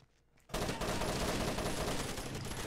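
Video game gunfire erupts after a brief quiet moment into a dense, loud, continuous burst of rapid shots that holds steady to the end.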